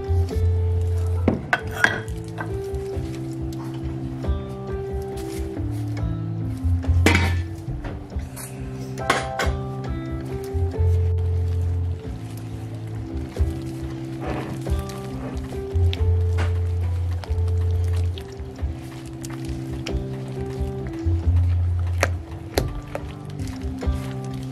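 Millet porridge stirred in a pot with added water: repeated scraping and clinking of a utensil against the pot in an uneven rhythm, close by, over a low steady hum.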